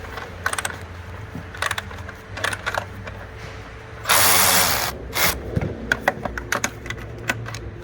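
Ratchet clicking in short bursts while undoing tight bolts at the back of the upper plenum on a Holden LFX/LFW V6, with a louder broadband burst midway; close and fairly quiet, no talk.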